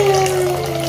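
Tap water runs steadily into a pot for steaming vegetables and fruit in a home kitchen, a continuous close pouring rush with a faint rising tone as the container fills, heard alone without talk.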